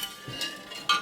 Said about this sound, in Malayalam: നമുക്ക് ഇങ്ങനെ പഞ്ചസാര അരിയിട്ട് കേട്ടോ, ഇങ്ങനെ ഇളക്കിക്കൊണ്ടിരിക്കും.